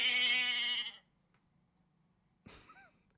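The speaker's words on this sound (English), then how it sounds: "Is this a goat noise?" A loud, wavering goat bleat fills the first second, followed by near silence, then a brief second shorter bleat-like cry near the end.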